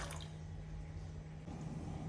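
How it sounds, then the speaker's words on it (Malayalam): Water pours faintly over horse gram set to soak, a soft, brief splash and trickle over a low steady hum. "മുതിരയിലേക്ക് കുറച്ച് വെള്ളം ഒഴിച്ചിട്ട് ഒരു 7-8 മണിക്കൂർ നമുക്ക് കുതിരാൻ വെക്കാം"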